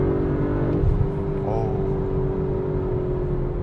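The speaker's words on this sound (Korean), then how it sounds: "이 V6 트윈 터보 엔진 돌아가는 느낌이" A 450-horsepower V6 twin-turbo engine in an Audi RS5 Sportback drones and builds as the car accelerates in RS mode, heard from inside the cabin, steady and fairly loud, with a brief high chirp partway.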